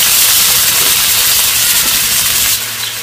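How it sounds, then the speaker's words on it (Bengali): Potatoes hit hot oil, left over from frying paneer, with a loud, dense, continuous sizzle and hiss that eases slightly toward the end. "ওই তেলের মধ্যে আমি এবার আলুগুলোকে ভেজে নিচ্ছি।"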